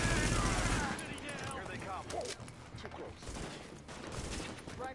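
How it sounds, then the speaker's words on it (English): Enemy shotgun blasts in The Division come as a loud opening burst followed by scattered, rapid shots and mechanical clatter, with in-game effects layered over them. "I know these shotgunners are shooting in tandem on purpose."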